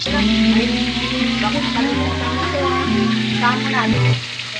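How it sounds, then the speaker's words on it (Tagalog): Marinated chicken for hamonado frying in a pan, a steady close sizzle with bubbling throughout, a voice talking over it. "Yan, piprito ko na naman muna ngayon ito."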